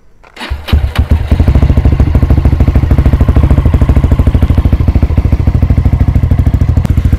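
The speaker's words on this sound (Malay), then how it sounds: "saya cuba start saya punya motor dulu bagi korang dengar" A SYM VF3i motorcycle engine cranks and catches, then settles into a loud, rapid, steady idle that throbs close by without pause.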